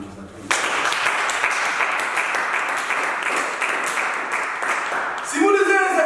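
A church congregation applauds during a sermon on fasting and prayer: dense, steady clapping that starts abruptly and holds for about five seconds, fairly loud, with a voice rising briefly at the end.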